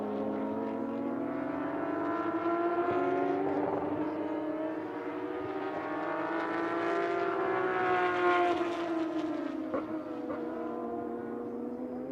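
Flat-six boxer-engined race cars roar around the 4.592 km anti-clockwise 15-turn Portimão circuit during qualifying, a continuous loud engine howl with rising and falling pitch as cars pass, alone without talk.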